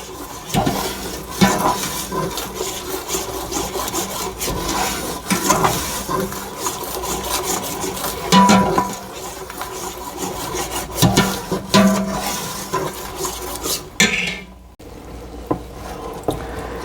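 Tomato paste being stirred in a pot for creamy tomato soup: a steady, close scraping and rubbing of a utensil against the pot, continuous and fairly loud with occasional knocks, and no speech.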